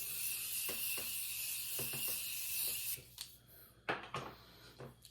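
A steady hissing of makeup setting spray on a face runs for about three seconds, then stops, followed by light rubbing and tapping sounds.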